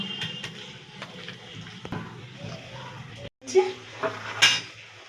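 Chicken pieces for chili chicken are worked into a marinade in a bowl, giving soft squishing and intermittent clatter. A brief pause comes near the middle, then a few louder clanks and knocks close by.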